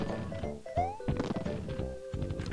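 Cannons firing Bullet Bills in Super Mario Bros X, a quick run of dull thumping shots among busy game music and effects.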